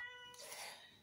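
A cat meows once, a clear drawn-out call rising after a brief tonal hum, close and alone in a quiet room.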